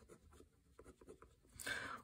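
Pilot Frixion erasable pen writing on planner paper, a short run of faint scratchy strokes rising to a louder, brisk scribble at the end, with no talking.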